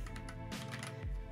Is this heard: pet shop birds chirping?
no